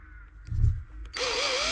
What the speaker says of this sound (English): Drilling it fiberglass this time, so don't need to centre punch them.